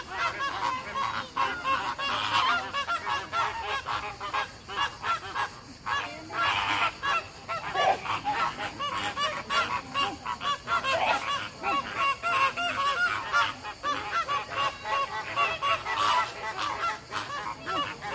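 Flamingos squabble at the Lisbon zoo, a dense, continuous flock of harsh honking calls overlapping in rapid bursts, moderately close and without voices.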